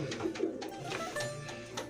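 Old-lineage Kayseri tumbler pigeons cooing softly, a few low rolling coos close by over faint background noise.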